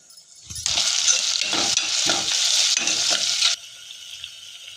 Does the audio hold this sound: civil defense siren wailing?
no